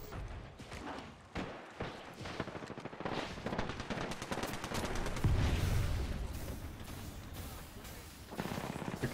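Video game gunfire crackles in rapid bursts and scattered shots through most of the stretch, fairly faint and distant-sounding, with thumping impacts mixed in.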